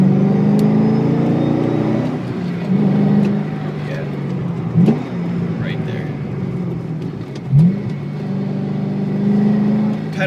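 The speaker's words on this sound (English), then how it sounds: "It's a 7-liter V8, but when I blip for a downshift" A Corvette Z06's 7-liter V8 hums steadily while driving, punctuated by two quick rev blips on downshifts, with someone talking over the engine throughout.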